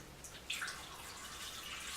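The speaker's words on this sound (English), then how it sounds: "We can get more water in there." Tap water runs steadily into a cooking pot being filled to make a parsley drink, a faint continuous splashing hiss with a small surge partway through.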